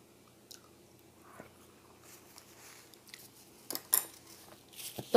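Someone eats a tofu meal with soy sauce close to the mic. Quiet, moist chewing and biting sounds are followed by a few sharper crunchy bites and a faint clink of cutlery near the end.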